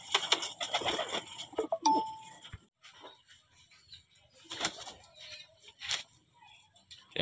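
A racing pigeon cooing during a training session, a few soft coos and bird calls set among quiet stretches, with faint background noises.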